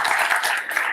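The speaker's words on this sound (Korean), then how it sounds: "박수 치세요." Audience applause at a speech on Korean reunification, a steady wash of many hands clapping throughout the second with no pauses.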